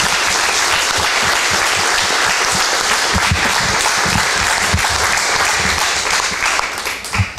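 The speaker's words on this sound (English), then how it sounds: "Let's give them one more round of applause" A gym audience gives loud, sustained applause for student athletes signing National Letters of Intent, a thick continuous roar of many hands clapping that fades slightly near the end.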